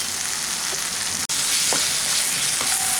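Banana flower paste with salt and sugar being stirred and cooked in a pan, a dense steady sizzle with faint spoon scrapes throughout and one brief dropout.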